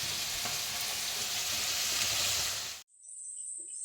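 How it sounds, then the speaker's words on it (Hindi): Potato and pea curry fries in a pan with a dense, even sizzle that cuts off abruptly, leaving near silence with a faint high whine. "देखिए, आलू मटर की सब्जी भूज रहे हैं।"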